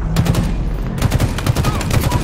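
Rapid turret gunfire in Halo Infinite on the Behemoth map, a loud, close stream of evenly spaced shots with a brief break before the burst resumes.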